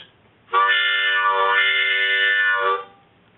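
A harmonica plays one sustained drawn chord on holes 2 to 5 for a few seconds, swelling and dipping to imitate a train whistle, alone in a quiet room.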